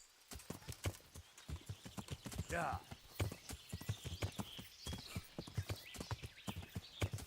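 Steady clip-clop of horse hooves at a walking rhythm in the video game Kingdom Come: Deliverance, with a brief whinny midway and people chatting over the top.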